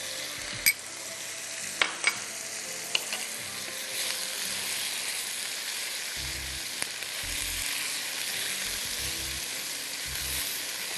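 Boneless chicken fries in a pan for curry with a steady, close sizzle throughout, broken by a few sharp clicks and soft low knocks of stirring.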